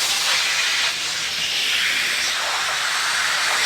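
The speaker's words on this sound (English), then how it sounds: "It blows out, you know, a bunch of powder because this hasn't been cleaned at all." Compressed air rushing out of a powder coating gun hose, blowing out built-up powder from the uncleaned line as a loud, steady, close hiss that holds throughout.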